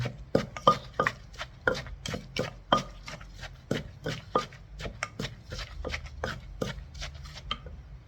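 Dried shrimp being mixed into pounded tamarind, a rhythmic series of dull knocks and thuds from a pestle or spoon in a mortar, steady and close with no voices.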